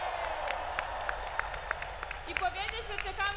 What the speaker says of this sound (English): We hear the young people cheering.